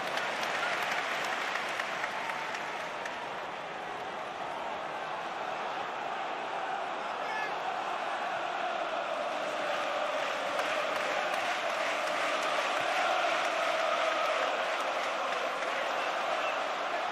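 A football stadium crowd at a Manchester City versus Arsenal match roars and applauds steadily, a dense, unbroken wall of noise lasting throughout with no pauses.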